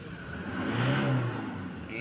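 A Ford Ranger 3.2 engine with low power revs up, its mid-pitched drone rising and then easing off nearby, with a voice talking over it.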